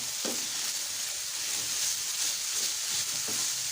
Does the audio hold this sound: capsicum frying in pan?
yes